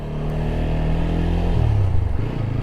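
A new motorcycle's engine runs close by in a steady, loud drone, with its pitch dropping and wavering partway through.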